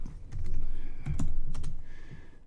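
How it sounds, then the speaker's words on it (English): Quick bursts of typing on a computer keyboard, clustered key clicks with short pauses between them, close and fairly loud with no talking. "typing, not my forte"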